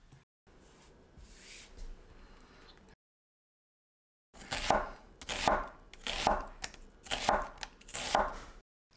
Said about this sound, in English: Quartering the onions might be best so that you have a chunky, hearty feel with that Salisbury steak gravy.